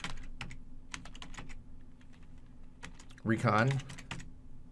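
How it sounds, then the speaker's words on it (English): Typing on a computer keyboard, a run of quick light keystrokes in a steady uneven rhythm, close by, with a voice speaking briefly partway through. "we're going to type in modules load"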